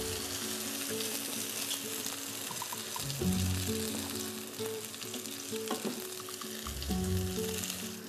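Chicken broth poured into a hot pot of Moroccan couscous sizzles and hisses loudly and steadily for several seconds, with splashing liquid and a faint stirring clatter close by.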